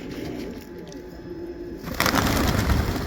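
Pigeons coo softly and steadily at a pigeon club in Baku, close by, with a louder rush of wing flutter and bird noise toward the end.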